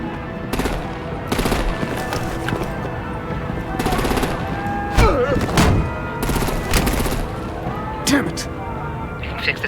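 Artillery and automatic gunfire in Batman: The Enemy Within, dense repeated bursts of shots with sharp loud cracks across the whole stretch, over a busy game soundtrack with voices mixed in.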